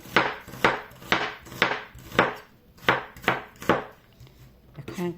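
A knife slices a large onion into thin strips on a cutting board, about eight crisp, evenly spaced chops, close and clear with no talking.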